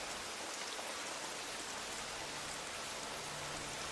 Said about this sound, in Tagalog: Ulan yan.